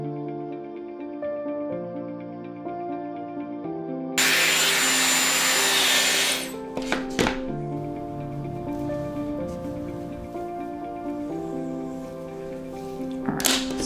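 A Dyson hair tool runs on a human hair lace top wig, a steady whirring blow that starts abruptly, is joined by brief clicks and knocks of handling, and plays against soft music in the background.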